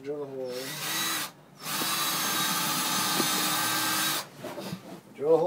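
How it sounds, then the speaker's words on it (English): Power drill boring a hole into a hot tub during a repair, a sustained whine running about three seconds after a brief burst and a pause, with voices talking before and after. "first drill a hole"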